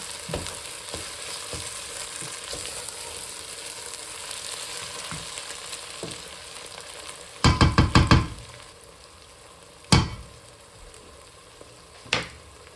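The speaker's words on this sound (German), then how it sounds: "Also ich rühre es immer um, damit nichts anbrennt." Sliced onions frying in a pan for crispy fried onions, a steady soft sizzle under repeated stirring, with a burst of sharp scraping knocks midway and two more spoon clacks against the pan toward the end.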